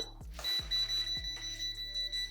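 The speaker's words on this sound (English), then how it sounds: "if you go near something that has electricity flowing through it, it'll beep" Klein non-contact voltage tester held near a live camera battery charger, giving a steady high electronic beep tone with a few quieter clicks and pulses underneath, close and clear with no talking.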